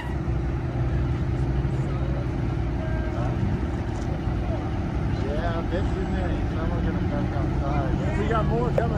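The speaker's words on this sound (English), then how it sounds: "I hear Mike McLean's bus" A school bus engine approaching, a steady low rumble that builds slightly, with people talking over it.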